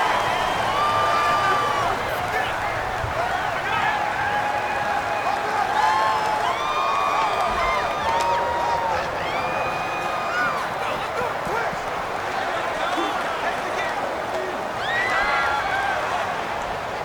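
Loud home-stadium crowd roar in Madden NFL 19, Buccaneers vs Ravens, steady and dense for the whole stretch with rising cheers and whistles, with a broadcast-style commentator voice talking over it.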